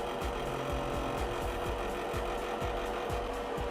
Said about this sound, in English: that rattling is actually coming from that back fan now at this point